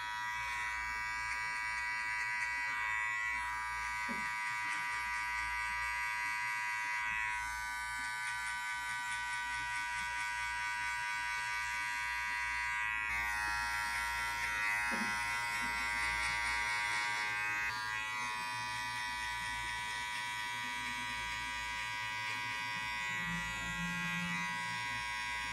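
Electric hair clippers cutting hair, a steady close buzzing hum that runs without a break for about 25 seconds, shifting in tone partway through as the blade moves against the hair, with no talk.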